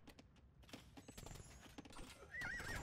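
Hussar cavalry horses in Age of Empires II clip-clop in quick overlapping hoofbeats, with a horse whinnying near the end. The whole passage is faint and busy with game sounds.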